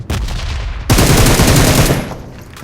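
Loud, close bursts of automatic gunfire rattle in the shooter game BGMI (PUBG Mobile): a short volley, then a longer sustained burst that fades out.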